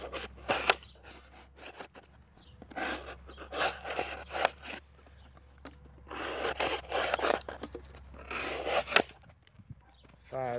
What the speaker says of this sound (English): Let's see, thick cardboard. Couple push cuts.